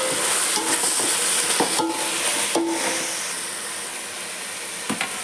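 Mint leaves sautéing in a pan for chicken biryani give a steady, close sizzle with occasional scraping stirs and clinks of a utensil against the pan, no voice present.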